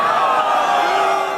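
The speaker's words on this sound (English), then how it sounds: "Are people booing the fact that he broke his leg?" A concert crowd roars in a sustained, dense wash of voices, loud and close, with mixed boos and shouts rising from the audience after a rock frontman's fall from the stage in Sweden.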